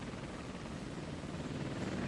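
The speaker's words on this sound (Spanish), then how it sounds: "8 helicópteros Apache cargados con poderosos misiles dirigidos hacia Irak" Eight Apache military helicopters loaded with missiles fly on a moonless night, giving a steady, dense rotor drone that holds at an even level throughout without pause.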